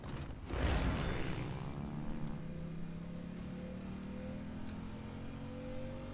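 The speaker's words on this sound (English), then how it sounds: "Rev the engine!" An engine revs in the Genshin Impact video game: a loud whooshing surge near the start, then a steady rising drone that carries on for several seconds without speech.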